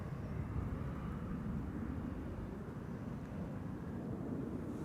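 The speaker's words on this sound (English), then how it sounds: "This is KLM Flight 1603 going to Rome, probably on its way to the threshold of 18 left." A KLM airliner bound for Rome taxis toward the threshold of runway 18 left at Amsterdam Schiphol, its engines producing a low, steady rumbling drone at moderate distance with no voices.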